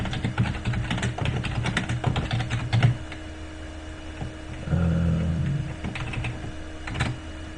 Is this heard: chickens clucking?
no